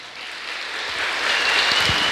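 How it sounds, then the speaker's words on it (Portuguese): A church congregation bursts into applause during a service, a brief, steady wash of many hands clapping at once that builds slightly in loudness. "Dê um grande aplauso ao Senhor."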